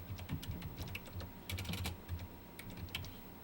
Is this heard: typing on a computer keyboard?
yes